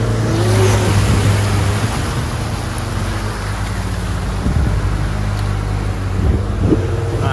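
A Suzuki Samurai on 34-inch tires drives off-road over a rough tank road, its engine droning loudly and close with repeated revving surges as it works through the terrain.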